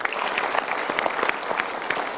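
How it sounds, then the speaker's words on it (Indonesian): Studio audience at a motivational talk show gives a brief, dense round of applause, steady clapping filling the room from start to finish with no voices over it. "Super sekali, kita berikan tepuk tangan."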